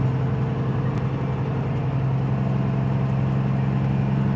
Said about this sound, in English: 5 miles of big trucks.